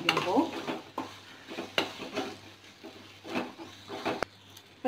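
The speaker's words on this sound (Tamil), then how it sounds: "நல்லா நம்ம மிக்ஸ் பண்ணி" A spoon stirs a mango pickle mixture in a vessel, making close, repeated scraping and clinking strokes in an uneven rhythm over a faint hiss.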